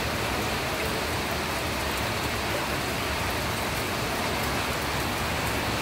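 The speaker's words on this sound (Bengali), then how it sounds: "জোরে বৃষ্টি নেমে গেল, মানে আওয়াজটা পাচ্ছ, এই ওপরের টিনটাতে পড়ছে, এরকম আওয়াজ হচ্ছে।" Heavy rain pounds a tin roof overhead in a dense, even hiss of countless drops that never lets up, loud and close with no voices.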